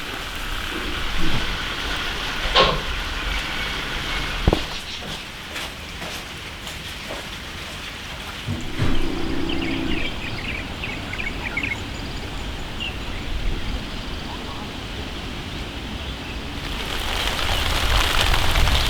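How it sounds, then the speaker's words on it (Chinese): Steady, heavy rain hisses and patters on surfaces, continuous and dense throughout, with occasional louder knocks and a few faint distant bird chirps. "快点过来，下大雨了。"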